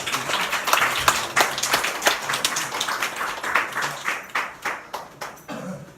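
A church congregation at a Sunday morning service claps in welcome for a guest, a steady crowd applause made of distinct, fairly close hand claps that pulse along for several seconds before thinning out.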